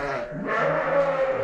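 Sheep and a newborn lamb on a farm, from a ewe lambing for the first time, bleat in wavering, harmonic calls that overlap across a short stretch, close and fairly loud with no talk.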